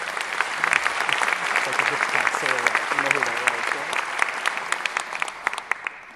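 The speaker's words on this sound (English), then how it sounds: "Let's give them a round of applause." An audience gives a round of applause at a film event on Staten Island, a full, dense clapping that swells and then thins into scattered individual claps near the end.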